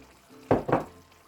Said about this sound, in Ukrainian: Зараз я ще сюди додам трошечки водички